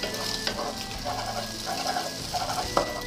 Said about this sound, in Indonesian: Panaskan sedikit minyak, lalu goreng telur.